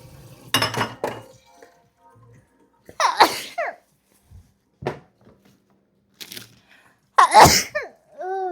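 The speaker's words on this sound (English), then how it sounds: "that's a huge sneeze" Scattered short clatters and vocal noises, then a loud, forceful sneeze near the end, followed by a brief squeaky sound.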